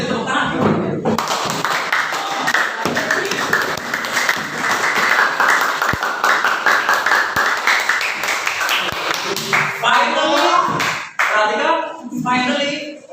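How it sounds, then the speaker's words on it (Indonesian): A classroom of students claps after a presentation, a loud sustained burst of applause that fades near the end into scattered claps and chatter. "Tepuk tangan"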